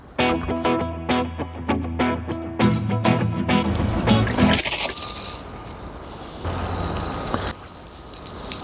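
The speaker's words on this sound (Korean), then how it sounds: "14달러짜리 휴대용 펌프가 일반 자동차 샤워용 노즐로 바꿨을 때 얼만큼 강한 물줄기를 기본 샤워기보다" A portable $14 electric water pump fitted with a car wash shower nozzle for self car washing: a tonal motor whine with clicks gives way to a loud, hissing jet of spraying water that settles into a steady, softer spray.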